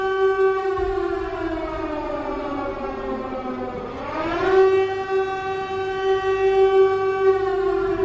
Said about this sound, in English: Did the air raid siren work at all right there?